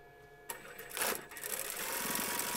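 A sewing machine stitches a patchwork strip onto a reversible fabric bottle bag, starting after a brief pause and then running as a close, steady whirring hum with a rapid mechanical needle rhythm.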